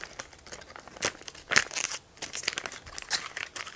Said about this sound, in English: use these two notches to tear it open